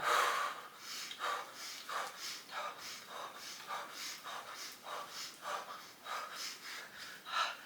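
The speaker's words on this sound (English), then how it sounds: "you can breathe through your nose or through your mouth" Slow, deep yoga breathing, repeated in a steady rhythm of soft, airy inhales and exhales heard close and fairly quiet, with no talking.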